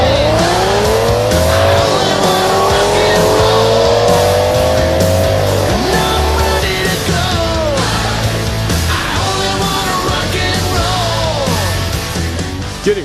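Loud RC race cars scream around an asphalt super speedway, their high-pitched motors rising and falling in sweeping passes as several cars chase each other, with occasional tire chirps and crowd noise behind.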